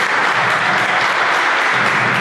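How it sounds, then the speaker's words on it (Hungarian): Thick, continuous applause from a crowd at a sports cup awards ceremony, loud and even throughout the short stretch with no pauses. "tapsot kérek neki"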